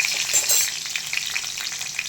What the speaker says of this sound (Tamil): 1/4 ஸ்பூன் சோம்பு, 2 பட்டை, 2 கிராம்பு, 2 பிரிஞ்சி இலை போட்டிருக்கேன். 4 பச்சை மிளகா, ஒரு கொத்து கறிவேப்பிலை.